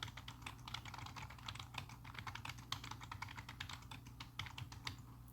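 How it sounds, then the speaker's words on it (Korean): Steady, rapid typing on a computer keyboard while entering spreadsheet items and pressing the Tab key between fields, with crisp close keystrokes in an even rhythm and no talking. "번호를 입력하고 탭키, 이름을 입력하고 탭키를 눌러가며 항목명을 입력합니다"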